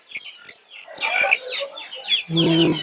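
Native chickens clucking and chirping at the Tongi bazaar poultry market, close overlapping calls in quick bursts, with a voice joining near the end.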